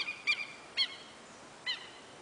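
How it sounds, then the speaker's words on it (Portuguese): Three separate bird calls from vultures, gulls and ducks, short honking squawks spaced irregularly, sound out over a quiet outdoor background at Pampulha Lagoon in Belo Horizonte, Brazil. "Urubu misturado com gaivota e pato."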